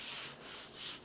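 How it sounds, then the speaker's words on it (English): Fine sanding sponge rubbing back and forth across a finished hardwood bench seat in three short, soft strokes, close up and rhythmic. "I'm gonna sand this with a fine sanding sponge, get all this raised grain off of here"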